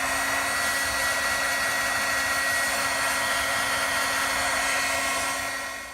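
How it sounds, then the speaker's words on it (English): A heat tool blows steadily to set embossing ink, a constant close whirring hiss with a steady hum that holds for several seconds, then fades slightly at the very end. "I'm just going to heat set that real quick"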